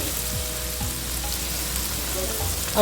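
Tomato pickle sautéing in oil in a pan, giving a steady, close, dense sizzle and crackle that holds at an even level throughout with no voices.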